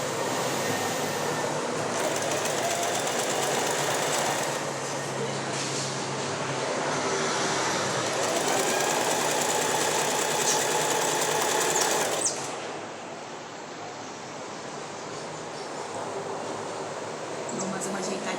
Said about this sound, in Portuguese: vou dar zigue-zague na pontinha do tecido